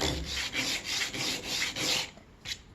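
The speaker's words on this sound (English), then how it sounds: "take your sandpaper and just go back and forth" Sandpaper rubs back and forth across a wood edge in about six quick, even strokes, close and dry with a raspy scratch, then a final short pass.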